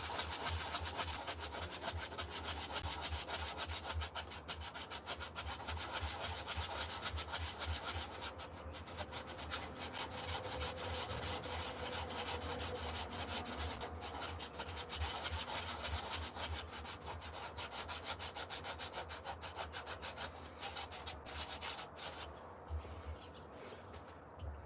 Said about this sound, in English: let's get our sanding block